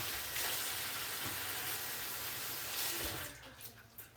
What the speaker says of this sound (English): Let's get the hands washed one more time.